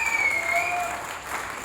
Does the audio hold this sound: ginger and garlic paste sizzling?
no